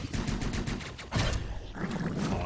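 Minigun enemies in Hyper Light Drifter fire rapid streams of gunfire: dense, fast repeated bursts, loud and continuous, with a brief break before a second barrage.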